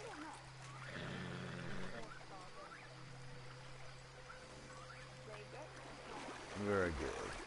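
A horse gives a short, rising-and-falling whinny near the end, heard over a steady low hum and faint outdoor ambience.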